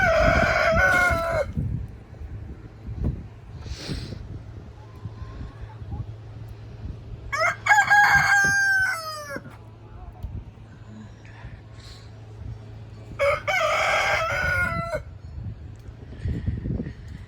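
A rooster crows loudly three times at intervals, over a constant low rumble of wind and occasional clucking.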